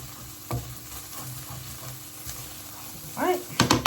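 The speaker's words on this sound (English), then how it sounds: "I feel like this non-stick pan is not very non-stick anymore. Okay, so mix it all together." Food sizzling in a worn non-stick pan while being stirred, a steady close frying hiss with scraping strokes, a few louder clattering stirs near the end, cooking a chicken pad thai.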